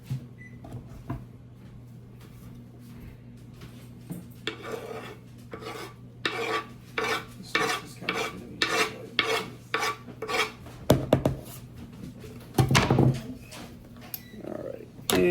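Guacamole ingredients mixed in a bowl with a utensil, a close series of scraping, mashing strokes coming in quick uneven bursts, louder and busier toward the end, over a low background hum.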